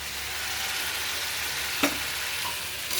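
Chow mein stir-frying in a pan makes a steady, close sizzle throughout, broken by one sharp scrape or clack of the utensil partway through and another near the end.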